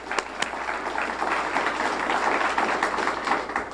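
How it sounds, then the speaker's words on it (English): An audience at a 1988 civic service awards evening gives a steady round of applause, a dense wash of clapping filling the room from start to finish. "let's have another round of applause so I can hear us going out the door"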